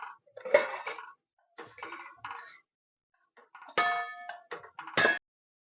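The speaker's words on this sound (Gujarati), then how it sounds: "હવે આપણે ધીમે ધીમે હલાવી નાખવાનું છે મિત્રો." A metal spoon clinks and scrapes against a pan while stirring Kathiyawadi dahi tikhari, a spiced yogurt dish, in short separate bursts of close clatter with quiet gaps between.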